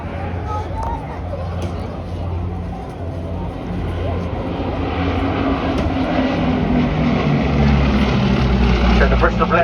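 Bristol Blenheim Mark 1, a British aircraft from the 1930s and 40s, flies past at the Southport Airshow 2024 with a steady propeller-engine drone that grows slightly louder, while a commentator talks over it.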